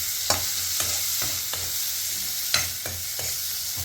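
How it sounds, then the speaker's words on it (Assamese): Onions frying and sizzling in a pan with turmeric and salt, a steady hiss broken by regular scrapes and knocks of a spoon stirring every half second or so, close and fairly loud, with no talking. "আৰু আপোনালোকে দেখিছে মোৰ পিঁয়াজখিনি প্ৰায় সিজিছে।"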